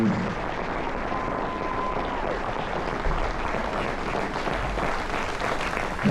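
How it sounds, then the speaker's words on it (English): Crowd applause at a military appreciation carnival party on a cruise ship, a dense, steady wash of many hands clapping that holds for the full stretch, with a brief tone near the start. "Big round of applause,"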